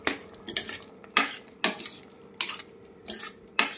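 A spoon stirs pumpkin dappalam with jaggery in a pan on the stove, sharp metallic scrapes and clinks in a steady rhythm of about six strokes over a faint sizzle, close and loud with no talking.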